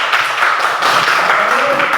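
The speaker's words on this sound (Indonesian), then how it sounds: "Tepuk tangan untuk kelompok 2." Classroom applause for a student group, a brief steady patter of many hands clapping together at moderate loudness, filling the whole moment without a clear break.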